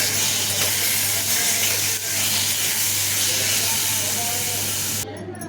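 Carrot halwa simmers on low heat in a pot, giving a steady, close broadband hiss and sizzle that holds evenly throughout before cutting off abruptly at the very end.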